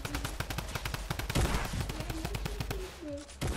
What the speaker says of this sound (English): Drum gun.